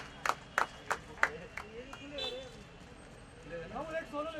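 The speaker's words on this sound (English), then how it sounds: "Come on, we can do better with our claps with that." Several sharp, spaced hand claps ring out from an audience at a product launch event, followed by fainter murmuring voices in the room.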